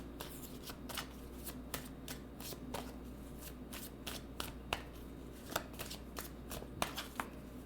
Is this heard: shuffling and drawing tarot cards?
yes